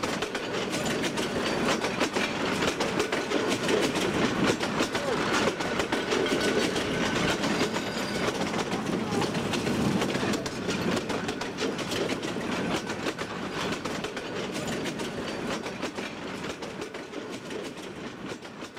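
A train rolls along the World War II Burma death railway through the jungle, a steady dense rumble with clattering wheel rhythm carrying on for the whole stretch, easing slightly toward the end.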